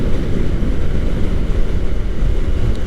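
Kawasaki Ninja 400 motorcycle cruising in 6th gear at about 60 mph, a steady low engine drone buried under heavy buffeting wind roar, loud and continuous with no speech.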